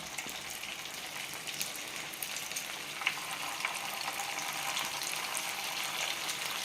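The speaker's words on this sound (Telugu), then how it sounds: "ఇలా పెట్టి నిదానంగా వేయించుకున్నాం చక్కగా లోపలికి కూడా ఉడికి బాగా ఏగుతాయి" Veg manchurian balls deep-fry in hot oil: a steady, dense crackling sizzle with faint bubbling runs throughout at close range, with no talking.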